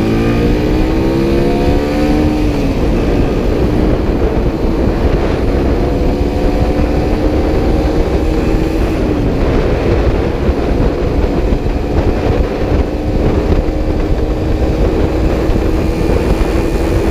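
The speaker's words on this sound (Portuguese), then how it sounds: "Rolezinho de Suzuki Intruder." A Suzuki Intruder 125 motorcycle engine drones continuously while riding, its pitch rising and falling with gear changes over steady wind and road noise.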